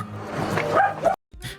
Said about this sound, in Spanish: Me están dejando sordos los perritos.